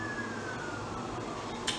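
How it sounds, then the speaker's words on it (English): Sirens wail faintly in the background of a Seattle kitchen, a thin, slowly falling tone over steady room noise that sits far off and quiet. "Who doesn't love the sound of sirens in the background?"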